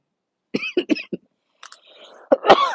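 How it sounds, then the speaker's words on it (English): Several sharp coughs come close to the listener in a quick cluster, then a brief pause and a heavier, rougher cough with throat clearing. "for coughing all in your ear."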